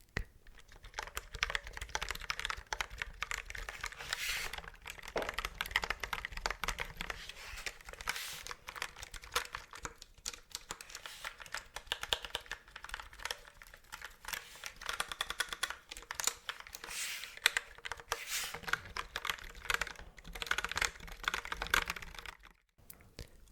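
Steady, continuous clatter of computer keyboard typing, close up, with fast irregular key presses and no voices throughout.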